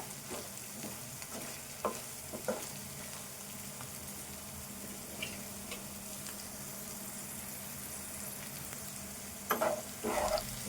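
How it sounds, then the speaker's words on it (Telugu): Green chillies and onions sizzle steadily in a hot pan, a constant close frying hiss with occasional scrapes and clicks of a spoon stirring, a few sharper stirring knocks near the end. "ఈ పచ్చిమిర్చి ఉల్లిపాయ ఇట్లా వేగితే సరిపోద్ది"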